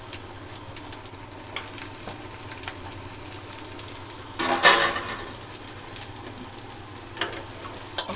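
Potatoes frying in a pan in a home Telugu kitchen are stirred, giving a steady soft sizzle throughout and a brief, louder scraping, spattering flare midway as the pieces are turned.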